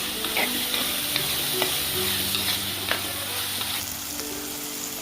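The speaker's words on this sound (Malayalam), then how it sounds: "തക്കാളി സവാളയൊക്കെ നന്നായിട്ട് വഴന്നു" Tomato and onion sauté in a pan as the base for a Kerala-style sardine curry with coconut milk: a steady, close sizzle and frying crackle runs throughout, with a few soft spatula scrapes and taps.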